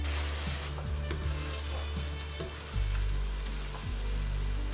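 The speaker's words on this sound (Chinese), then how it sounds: "油热把韭菜和鸡蛋倒入锅中，用铲子铺均匀，轻轻的晃动几下，防止糊锅" Chopped chives and beaten eggs sizzle loudly in hot oil in a wok, with a spatula scraping and spreading them and the wok being gently shaken, a steady close frying hiss with intermittent scrapes.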